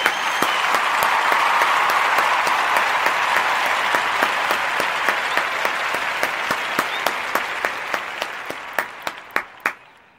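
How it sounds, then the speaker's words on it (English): An audience claps steadily, the dense applause thinning to a few loud, separate claps as it dies away at the end. "Give him a clap."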